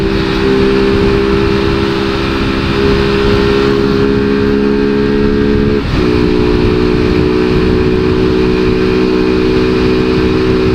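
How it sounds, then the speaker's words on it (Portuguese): Small motorcycle engine held at steady high revs during a night ride in traffic, a loud constant drone with one brief dip midway, wind noise underneath and no talk. "Hoje a motinha tá a milhão."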